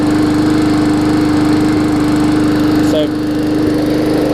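A Hyper Tough push mower engine, just freed after being seized from running without oil, runs loud and steady with a constant droning hum close by, while a voice briefly speaks over it.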